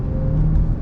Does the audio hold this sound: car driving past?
yes